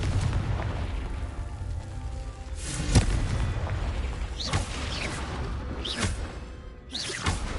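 Confringo blasting spells going off in Hogwarts Legacy: several booming bursts spaced a few seconds apart, each a sharp crack with a rushing tail, over a steady rumbling game backdrop.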